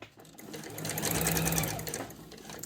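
A sewing machine stitches around the corner of a piped cushion cover, a close, steady whirring run that swells and then tapers off over a few seconds.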